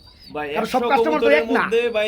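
Several pigeons coo close by in low, warbling phrases that run together without pause.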